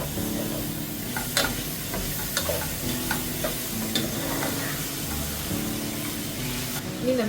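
Tomato goes into a pan of softened, salted onions and sizzles steadily, with spoon scrapes and taps against the pan punctuating the even hiss of frying, close and continuous without talk.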